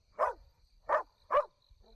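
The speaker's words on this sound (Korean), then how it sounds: "깊은 수풀을 향해서 아주 맹렬하게 짖고 있었다." A dog barks fiercely three times in quick succession, sharp and fairly close, with a fainter fourth yelp at the end over quiet low background noise.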